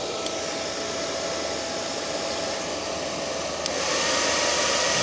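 Hair dryer blowing steadily, running off a 48V 100Ah LiFePO4 rack battery through an inverter; a continuous loud broadband whoosh with a slight lift near the end.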